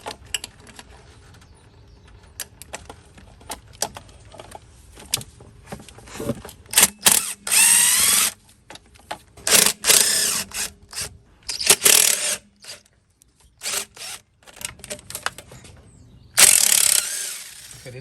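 A hand ratchet works bolts loose on a Third Gen Camaro engine, with bursts of close, rapid clicking broken by pauses and the scrape and clink of tools.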